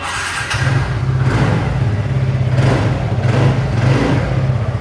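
A TVS 125cc motorcycle engine runs close by, holding a loud, steady low throb with a couple of brief revs rising and falling. No one speaks over it.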